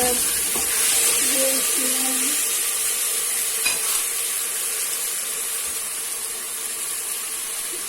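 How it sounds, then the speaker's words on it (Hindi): Tomatoes frying and being stirred in a pan for Kashmiri dhaba-style daal: a steady close sizzle with a few early scraping stirs and a small knock midway. "और इनको हम भूनेंगे। टमाटर शामिल करते हैं"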